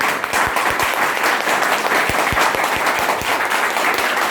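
Loud, sustained applause from a large audience at a seminar, dense steady clapping with sharp individual claps standing out, filling the whole stretch without talk.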